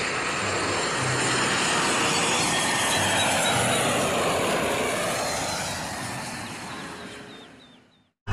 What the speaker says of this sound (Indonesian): ada pesawat terbang